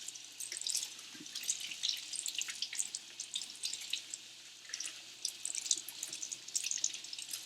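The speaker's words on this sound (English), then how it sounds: "Cleaning it off, rinsing it for you." Tap water runs steadily while a Louis Vuitton Speedy 30 bag is rinsed clean in a kitchen sink, a continuous hissing splash with uneven droplet spatter, moderately quiet and close, with no talking.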